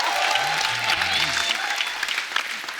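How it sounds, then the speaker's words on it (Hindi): Studio audience applause on a comedy talk show, honoring the film Shubh Mangal Zyada Saavdhan; dense clapping from a crowd with a voice and some musical tones underneath, loud and steady throughout. "शुभ मंगल ज्यादा सावधान के लिए एक बार जोरदार ताली हो जाए"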